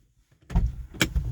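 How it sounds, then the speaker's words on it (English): A Lexus ES300 car door shuts with a solid thump after a quiet moment, followed by a second sharper clunk close by. "close the door"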